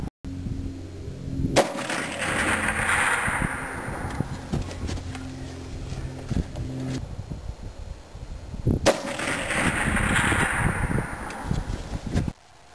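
Two loud rifle shots from a Winchester 94 lever-action in .30-30, firing Hornady 160 grain FTX bullets at a target around 400 yards, each blast followed by a long outdoor echo lasting several seconds.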